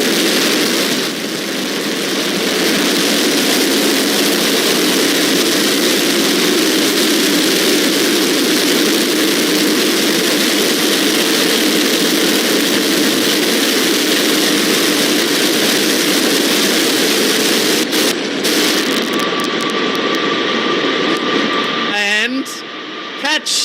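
The SpaceX Super Heavy booster's engines fire during the landing burn, a loud continuous roar heard from a distance that holds for most of the stretch before breaking up near the end.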